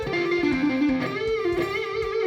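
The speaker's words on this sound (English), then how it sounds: "Or you could use pure legato and hammer-ons and pull-offs like this." Electric guitar playing a pentatonic lick with smooth legato hammer-ons and pull-offs, notes flowing continuously in a fast steady run, mildly overdriven and close, with no talking.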